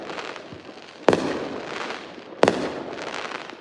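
New Year's Eve fireworks go off around a home balcony, two sharp loud bangs about a second and a half apart, each followed by crackling and rumbling echoes, over a constant backdrop of distant popping.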